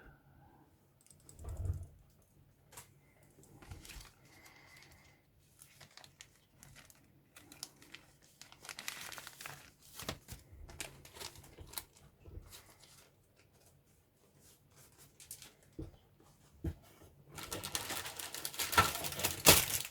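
Plastic bags holding parts of a Zvezda 1/48 Mil Mi-24V/VP Hind helicopter model kit crinkle and rustle close by in irregular bursts, growing louder and denser toward the end, with no talking.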